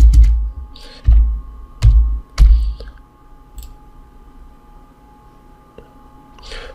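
A few sharp, separate keyboard clicks and taps, close and fairly loud, with quiet gaps and a steady low hum between them.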